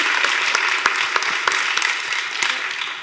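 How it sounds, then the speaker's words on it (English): An audience at an award ceremony for equity and social change gives a round of applause, many hands clapping densely and steadily in a hall, moderately loud, with a voice faintly under the clapping. "Let's give them one more round of applause"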